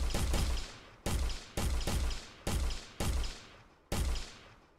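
Gunfire from a first-person shooter game prototype built in Unreal Engine: seven crisp, punchy shots in a quick, slightly uneven sequence, each with a short booming tail, and no voices.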